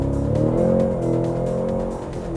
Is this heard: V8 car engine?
yes